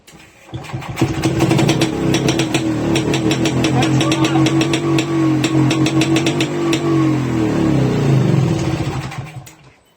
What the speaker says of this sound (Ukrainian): зараз хочу при вас завести мотоцикл